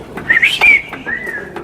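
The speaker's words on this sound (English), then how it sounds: "did somebody just make fun of me whistling?" A person whistles a short, bright, wavering tune in a workshop during a differential overhaul, a few quick rising notes followed by a longer sustained tone, close and fairly loud, with no talking.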